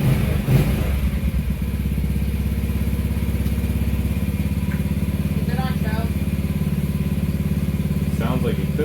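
A Honda TRX ATV engine idles fast with a steady, loud, even putter throughout. Voices can be heard faintly over it.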